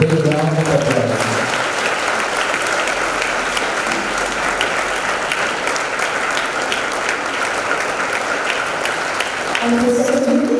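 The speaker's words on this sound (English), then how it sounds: "I kindly request everyone to welcome the procession with a big round of applause" A large audience at a homoeopathic medical college ceremony in Deralakatte applauds a procession, a loud, dense, unbroken wall of clapping lasting about ten seconds, with faint music or voices at the start and end.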